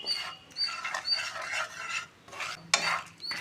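Spices, dry coconut powder and peanuts being stirred and dry-fried in a pan for stuffed brinjal masala curry, with bursts of scraping stirs and rattling between short pauses, no speech.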